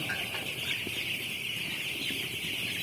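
Broiler chicks in a warm brooding house keep up a constant chorus of high cheeping, many birds peeping at once in a steady, dense wash with no pause.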